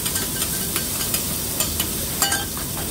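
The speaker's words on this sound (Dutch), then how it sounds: "En de preien die mag er ook al wel lekker bij. Lekker een beetje doorbakken." Leeks and garlic fry in a pan, a steady close sizzle broken by light stirring scrapes and clicks at irregular intervals, with no talk.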